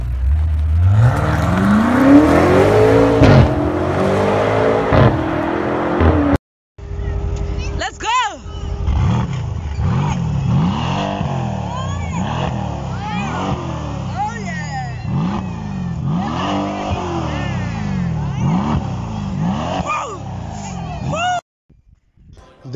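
A Mercedes-Benz AMG C63 S engine revs repeatedly up and down, loud and close, with sharp throttle blips after an initial long sweep, and someone talks throughout.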